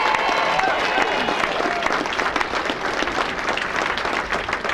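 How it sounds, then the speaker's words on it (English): Sustained applause from a banquet audience at a sports hall of fame induction dinner, a steady wash of many hands clapping at moderate level, with faint crowd murmur underneath. "let's give her a round of applause for that right now"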